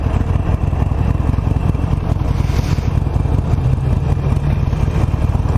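An old Harley-Davidson Nightster motorcycle idles high in cold air, a loud, steady low engine rumble with constant rough throb and no talking over it.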